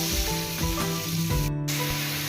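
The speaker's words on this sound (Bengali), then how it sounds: "পরিমাণ মতো ঝোলের জন্য জল দিয়ে দেব" Water poured into a hot pan for a fish curry broth gives a loud, steady hiss and sizzle that fills the whole moment, with faint stirring scrapes underneath.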